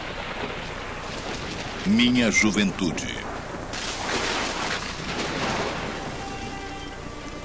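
A thunderstorm sound effect on a stormy night, with steady hissing rain and a deep thunder rumble rolling through as a voice speaks over it.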